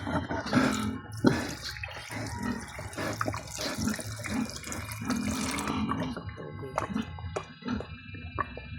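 Water runs steadily from a household tap into a basin, a continuous splashing wash with small clinks and handling noises close by, while faint voices murmur in the background.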